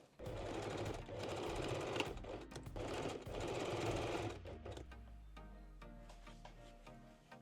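A domestic sewing machine runs a straight stitch on lace bra fabric, a steady mechanical whir with bursts of fast needle clatter, then slows and settles into a low motor hum near the end.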